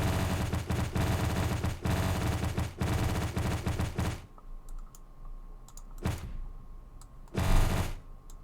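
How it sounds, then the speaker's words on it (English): A rapid popping effect from the video game Super Dungeon Designer crackles densely for about four seconds like popcorn or a stream of tiny shots, followed by a quieter stretch with a few isolated pops. "Kind of sounds like popcorn. Or being fired at by a machine gun"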